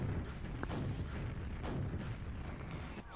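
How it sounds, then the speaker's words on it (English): Rocket explosions in the arena shooter Quakeworld during a professional match, dull booming blasts rolling continuously through a dense, steady low-end rumble, with no clear gaps between hits. "he's just spawning right into these rockets"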